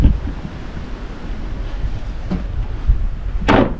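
Strong outdoor wind buffets the camera microphone with constant low rumbling and irregular gusts, a loud broadband roar that swells sharply near the end.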